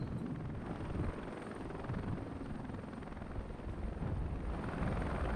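Mi-24 attack helicopter in the military game Regiments, a continuous deep rotor thump and turbine roar that holds steady and loud from start to finish with no voices over it.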